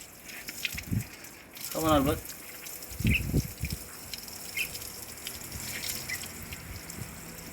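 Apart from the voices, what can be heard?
water pouring as a pet bird (Albert) is showered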